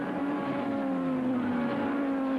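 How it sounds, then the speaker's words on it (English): Formula One race car at the British Grand Prix, a high-pitched engine whine held steady and close, shifting slightly in pitch as it passes, with no talk. "Nigel Mansell leads the British Grand Prix"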